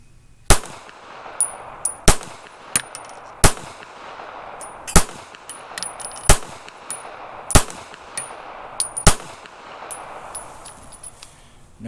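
A Taurus Spectrum .380 ACP pistol fired through a 7-round magazine, sharp loud shots spaced roughly a second or more apart, each followed by faint metallic pings of ejected brass.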